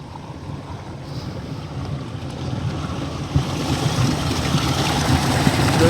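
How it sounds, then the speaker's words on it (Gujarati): Water gushing out of a borewell pipe near a temple outdoors, a broad steady rushing roar that builds slightly louder, with some wind buffeting the microphone. "બોરમાં પાણી ચાલુ છે, અહીંયાથી અહીંયા આવે છે."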